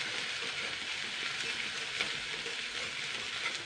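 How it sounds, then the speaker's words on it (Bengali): Onion stirred and fried in a pan for a Bengali fish curry, a steady close sizzle with faint scraping running throughout, no talk. "তো আমি এটা 2 মিনিট জাস্ট নাড়াচাড়া করে নেবো পেঁয়াজটা।"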